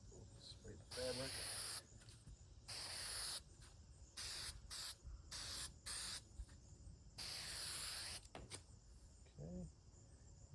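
Spray adhesive hisses onto fabric for 1967 Plymouth Barracuda bucket seat covers in bursts of varying length, some long and some short, loud and close, with someone briefly talking between sprays.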